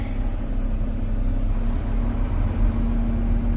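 A truck's engine rumbles steadily as the vehicle creeps forward, a low, even drone with a faint tonal hum heard from inside the cab, moderately loud and with no talking.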